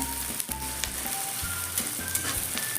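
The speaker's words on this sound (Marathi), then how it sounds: "कांदा चांगला भाजून घ्यायचा आहे कांदा गोल्डन कलर येईपर्यंत भाजून घ्यायचा" Onion frying with curry leaves in hot oil, a steady close sizzle with occasional stirring clicks, continuous and fairly loud throughout; background tonal hum lines run underneath, and no one speaks.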